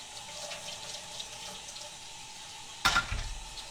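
A pot used for making cinnamon apple butter is rinsed under a running kitchen tap: after quiet background, a sudden close gush of splashing water starts near the end and continues briefly, with no speech.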